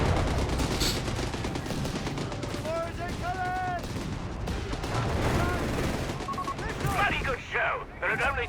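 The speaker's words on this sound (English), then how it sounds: "Just ripping apart those Jaegers there with the Sun and Sten guns." Sten gun fire in Company of Heroes 3, a World War II strategy game, comes as dense overlapping bursts and rattling volleys with explosions mixed in, under continuous game-battle noise.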